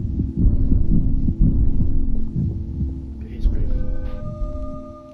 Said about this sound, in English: I hear heartbeats.